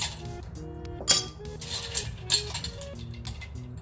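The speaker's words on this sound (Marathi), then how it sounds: "बर्फाचे तुकडे आपण टाकूया" Ice cubes drop into a glass while a virgin mojito is made, making a few sharp clinks and rattles, with two louder hits amid lighter tinkles close by.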